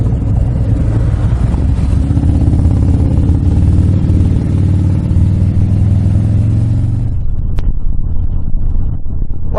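A truck passes by in road traffic, a loud, steady low engine rumble close by that holds for about seven seconds and then cuts off abruptly, leaving quieter surroundings.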